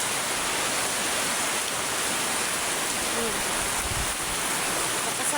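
Heavy rain pours down suddenly amid strong wind, a dense, loud, steady roar of water and gusts filling the whole stretch without a break.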